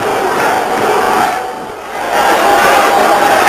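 Boxing arena crowd roaring in a big fight after a landed right hand, a loud sustained cheer that dips briefly and then swells again.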